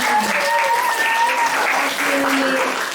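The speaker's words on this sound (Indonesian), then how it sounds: "Boleh tepuk tangan buat Rosa." A school group in a discussion session applauds for a participant named Rosa, moderately loud continuous clapping with voices talking or calling out over it.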